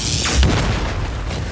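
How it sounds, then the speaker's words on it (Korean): Sudden loud boom of a gas explosion set off by a spark in a prison escape movie scene, a single deep blast followed by a rumbling decay. "스파크와 함께 폭발해버립니다"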